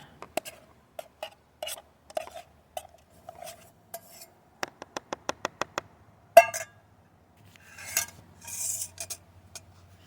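Spaghetti spooned from a pot onto a plate: a run of light metallic clinks and scrapes of a spoon against pot and dish, some in quick succession, close and fairly quiet with no talk.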